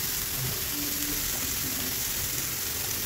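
Cumin seeds and chili spice paste sizzle in a frying pan for a Bengali fish dish, a steady close hiss of hot oil frying throughout with faint stirring, no voices.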